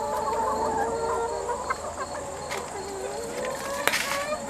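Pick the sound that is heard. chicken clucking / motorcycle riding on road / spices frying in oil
chicken clucking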